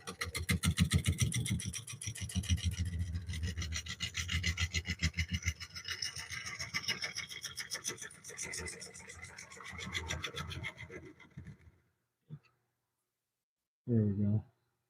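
A scraper rasps against a wooden bowl spinning on a lathe, a dense, continuous scraping whir for about twelve seconds, then the lathe stops, leaving silence broken by a short click and a brief burst of noise.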